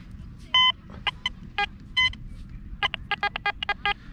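A Quest X10 Pro metal detector beeps over a 5-zloty coin, giving a fast run of sharp electronic tones in uneven clusters above a low rumble of background noise.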